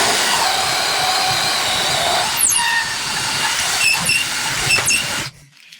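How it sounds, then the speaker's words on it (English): A steady, loud mechanical whir runs throughout with high squealing streaks as a power drill spins a hardwood dowel, then cuts off abruptly near the end. "then you take your hardwood, put it in a drill, and here we go"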